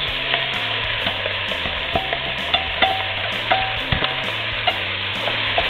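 Mirepoix of onions, celery and carrots sizzles in a Dutch oven, a constant close hiss broken by regular stirring clicks and scrapes, with no voices.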